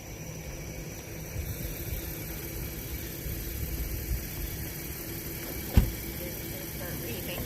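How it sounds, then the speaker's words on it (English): A parked car's engine idles outdoors during leaf gathering for monarch caterpillars, giving a steady low rumble and hiss throughout with one brief knock near the end. "I could probably shut the car off"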